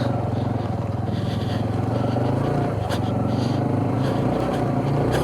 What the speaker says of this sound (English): See, that's full spin right there.